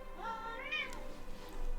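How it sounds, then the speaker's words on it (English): A Bengal cat lets out a single drawn-out meow with a rising, wavering pitch, close and fairly clear against a quiet room. "Never ever get a Bengal cat"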